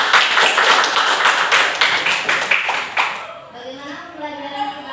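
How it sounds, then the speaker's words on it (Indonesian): A group in an Islamic religious education class claps after a presentation, a few seconds of rhythmic, fairly loud hand claps that stop abruptly, followed by a voice speaking. "tepuk tangan untuk kalian semua"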